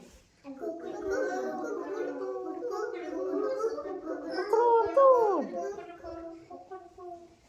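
Children's voices chatter and mimic a hen's clucking together, a noisy group imitation with a rising, squawking call near the middle.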